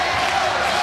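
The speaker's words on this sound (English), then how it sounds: "The crowd chants." Arena crowd at a Hawaii versus UC Santa Barbara women's volleyball match, a dense, steady roar of voices chanting together, loud and continuous for a brief moment.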